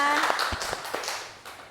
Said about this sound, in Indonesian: Beri tepuk tangan dulu kepada kelompok 2